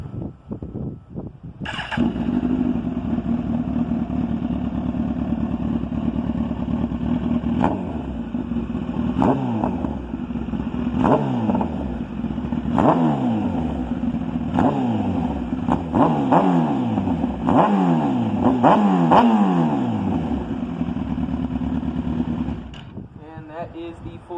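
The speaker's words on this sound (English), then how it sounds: "That is the full system M4 exhaust on a Gen 3 ZX10 without the baffle." A custom Gen 3 Kawasaki ZX10 streetfighter with a full-system M4 exhaust and no baffle starts and idles loudly, then revs in repeated sharp blips, each rising and falling fast, before cutting off.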